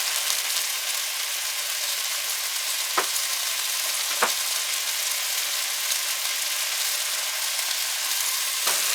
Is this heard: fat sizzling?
yes